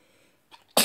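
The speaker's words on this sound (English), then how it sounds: "I'll sneeze." A single loud, sharp sneeze bursts out near the end, preceded by a faint intake of breath, close to the microphone in a quiet room.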